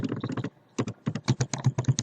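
Quick bursts of keystrokes on a computer keyboard while a password is typed, close and crisp, with one short pause before the clicking resumes in a rapid run.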